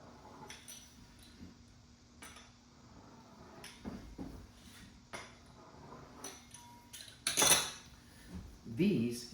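Knife trimming the edges of apple hand pie dough on a kitchen surface, with scattered taps, scrapes and clinks of metal on board, a couple of sharper louder knocks near the end, and faint background noise.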